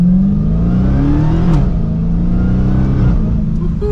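A loud supercharged engine in a Dodge Charger SRT Hellcat Widebody revs up close, accelerating from second gear, pitch climbing steadily through the gears with a brief shift, a constant supercharger whine riding over the roar.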